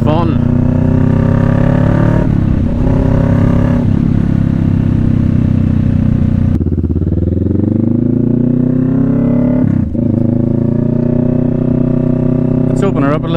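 Kawasaki Vulcan S cruiser motorcycle accelerating on an open road, loud close engine rising in pitch through several gears with brief dips at each shift, wind noise around it.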